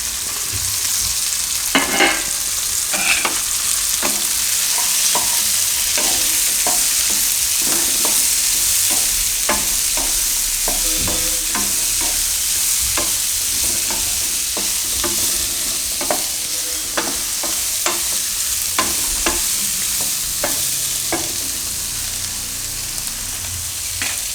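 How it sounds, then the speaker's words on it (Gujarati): Carrots and green beans are stir-fried with onion in a pan for a pasta gravy: a loud, steady sizzle runs throughout, punctuated by frequent sharp clinks and scrapes of a spoon against the pan, close up with no voices. "આ બધું શાકભાજી આપણે આમાં નાખી દઈએ ગાજર ને ફણસી ને બધું"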